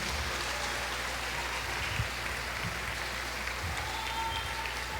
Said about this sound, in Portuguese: Você pode bater umas palmas ao Senhor?